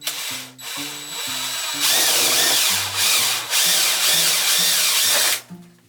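A power drill bores a 1-inch hole at low speed while a slop sink is being installed. The motor whirs loudly in repeated bursts, its pitch rising and dipping as it starts, stops and bites into the material.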